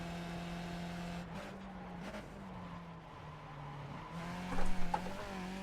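A Skip Barber F2000 open-wheel race car in iRacing drones at steady revs, its fairly quiet engine tone holding level with slight pitch shifts and a brief rougher burst near the end, no talk over it.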